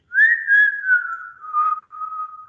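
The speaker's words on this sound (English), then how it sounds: "I'm whistling, but I'm taking in airflow" A steady ingressive whistle, made while drawing air in, held on one pitch, gliding slightly downward with small breaks, close and clear with no talking.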